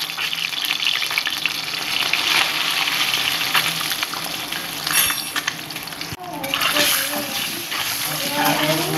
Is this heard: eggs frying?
yes